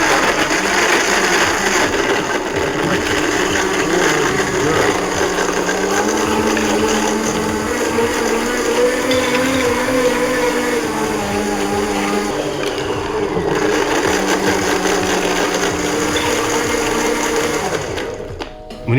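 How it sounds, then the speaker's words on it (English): A blender crushes ice for a piña colada, a loud continuous whirring grind that holds steady for nearly the whole stretch with shifting pitch as the ice breaks up, then stops abruptly near the end; no talking. "Next up, we're going to stick this on the blender and let it rip."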